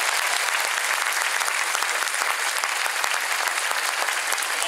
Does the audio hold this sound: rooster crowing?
no